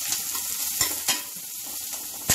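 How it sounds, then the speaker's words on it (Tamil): Onions for homemade samosa filling sauté lightly in a pan, giving a soft continuous sizzle broken by a few sharp stirring scrapes and clicks, close and alone. "லைட்டாக ரொம்ப இல்லை, லைட்டாக இந்த வெங்காயம் வதங்கட்டும்"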